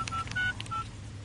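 A mobile phone number is dialed, a quick run of several short keypad tones in uneven rhythm, close and fairly quiet over a low background hum.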